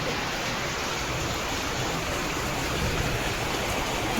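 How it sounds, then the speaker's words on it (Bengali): Heavy rain pours down outside in a steady, dense roar that holds constant throughout, with no breaks or voices. "দেখো কি বৃষ্টি দিচ্ছে, দেখো বাইরের অবস্থাটা দেখো একবার। সকাল থেকে মুষলধারে বৃষ্টি।"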